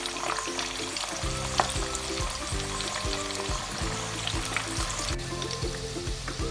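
Sesame-coated chicken drumsticks fry over low heat in oil, producing a soft, steady bubbling sizzle, accompanied by a repeating low mechanical hum and a single sharp clink partway through.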